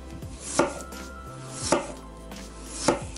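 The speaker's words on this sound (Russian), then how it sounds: "нарезать картофель тоненькими пластиночками" A knife slicing potatoes thinly on a cutting board, three sharp, evenly spaced knocks against the board, close and clear with no talking.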